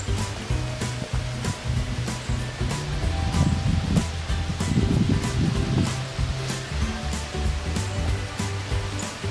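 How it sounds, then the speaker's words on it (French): Strong wind blows around a house and its veranda, making a continuous, loud, broadband rush with gusty swells and scattered buffeting knocks. There is no clear talking over the noise. "Il y a beaucoup de vent."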